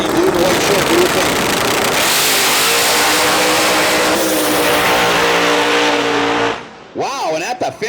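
Drag race cars at a street-class event roar hard down the strip, a loud, sustained engine blast that swells, then cuts off near the end, leaving brief rising whines and crowd noise.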